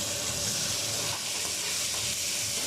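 Tomatoes and green chillies sautéing in oil for fish curry, a steady broadband sizzle and hiss that stays even and close throughout, with no talking.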